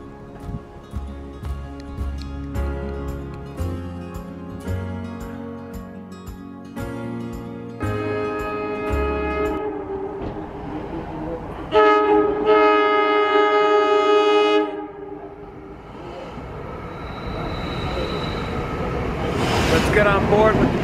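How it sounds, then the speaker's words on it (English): An NJ Transit Arrow III electric train on the Peapack line pulls into Bernardsville station, sounding several loud blasts of its horn over rolling rail noise, with people talking nearby. "All right, let's catch this train."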